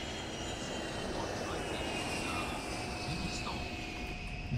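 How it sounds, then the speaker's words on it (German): An airplane in the railway game Train Simulator Classic, on the S25 line through Berlin, drones steadily overhead as a continuous engine roar, moderately loud and unbroken throughout. "jetzt hören wir das Flugzeug auch mal."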